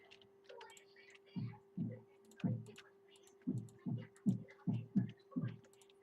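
Soft muffled thuds from wool blocks being placed in a video game, about ten in irregular clusters, over a faint steady hum and quiet background voices.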